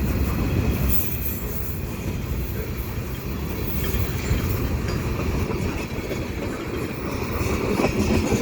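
A mixed freight train with stack cars rumbles past close by at Dorval under a stormy sky, a steady, loud roar, wheels grinding and squealing on the rails throughout, no voices.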